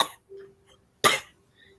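A dog makes a fake cough, two short, dry hacks a second apart, close and fairly quiet, with faint household sound between them.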